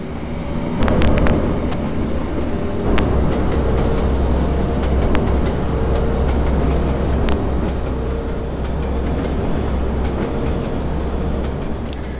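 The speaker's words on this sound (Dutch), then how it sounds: "We volgen de trein die Nijverdal Centrum verbindt met de tunnel." A simulated train in the game Trainz 2 runs steadily toward a tunnel from a town centre, a continuous low rumble with a few sharp clicks near the start, heard alone without any talk.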